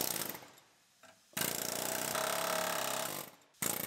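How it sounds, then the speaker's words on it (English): A die grinder cuts a rusted bolt out of plastic on a GMC Yukon collision rebuild, giving harsh, loud, rattling grinding bursts separated by brief quiet gaps. "Takes a minute or so to cut it off with the die grinder."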